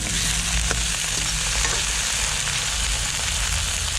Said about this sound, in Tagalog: igigisa po natin yung lukan na nakuha natin